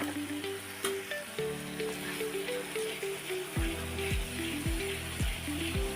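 Spinach paste with garam masala stirred and fried in a pan for a home-style palak paneer curry: a steady wet sizzle with occasional stirring, close and continuous, with light background music.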